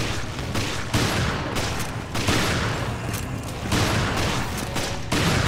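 Rapid, heavy gunfire from a gun in Resident Evil: Revelations during the final boss fight, a loud continuous barrage of blasts in dense bursts, no voices.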